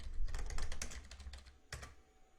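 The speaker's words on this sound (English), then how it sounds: "in the search bar, I'm going to type in low poly" Typing on a computer keyboard, a quick burst of close, crisp key clicks in an irregular rhythm, ending with a single firmer keystroke, no talking.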